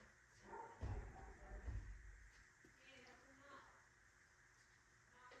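Dogs barking a couple of times in quick bursts near the start, then quieter whimpering and stray noises, with a faint voice in the background.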